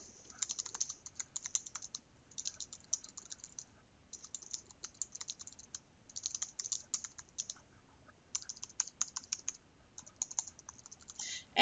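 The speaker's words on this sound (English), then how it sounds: "So here we'll go ahead and type something." Steady typing on a computer keyboard while composing an automatic reply email, close and quiet clicks in quick bursts with short pauses between words, no talking.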